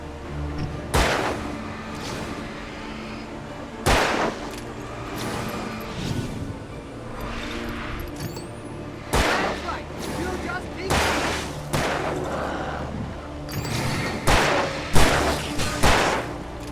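Gunshots in the video game Alan Wake Remastered: several sharp, loud reports fired at irregular intervals, with a tight cluster near the end, over a steady ambient game backdrop with a voice speaking.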